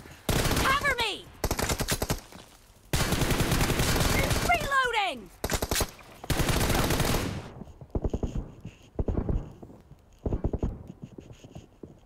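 Rapid gunfire from the video game Free Fire arrives in several loud, dense bursts separated by short pauses, with quieter clicks and game effects in the gaps.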